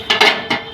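A lid comes off a pan of cauliflower paturi with a few quick metallic clinks and clatters in close succession, near and fairly loud, with no talk.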